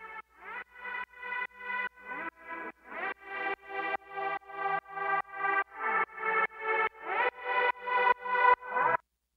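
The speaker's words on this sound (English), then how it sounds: "let me show you this this synth patch, which is really cool, on its own with no reverb" A bright, dry synth patch with no reverb, playing a steady run of about twenty short, evenly spaced chords or notes that slowly grow louder and richer, each cutting off cleanly into silence.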